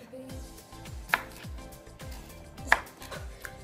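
A knife chops cucumber into little bits on a board, making a quick run of soft rhythmic taps with two sharper louder knocks, close and without talk.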